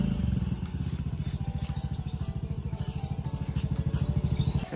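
A motorcycle idles and pulls away close by, its engine pulsing in a fast, even putter that stays loud throughout, with no speech over it.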